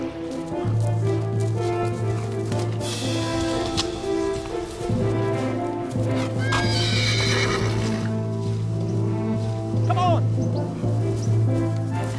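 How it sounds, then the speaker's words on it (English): Horses neighing loudly several times, with hooves clip-clopping steadily throughout and voices calling out over them. "Keep your horses under control!"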